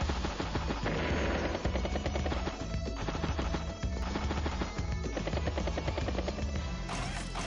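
A battlecopter attacking a tank in the video game Advance Wars: Days of Ruin, rendered as continuous rattling gunfire and rotor-like chopping over steady game music, fairly quiet and unbroken throughout.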